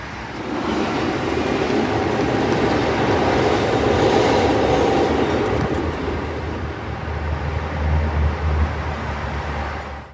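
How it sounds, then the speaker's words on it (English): A Chicago CTA rapid transit train roars past close by, a steady heavy rumble of wheels on rail with faint clatter that swells and holds for the whole stretch before fading at the very end. "That was made up for by the onslaught of CTA trains that came right after."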